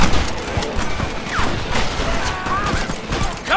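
Dense gunfire from a shootout in Red Dead Redemption, a continuous fusillade of overlapping shots with ricochets and booms, loud and sustained throughout with faint shouting voices mixed in.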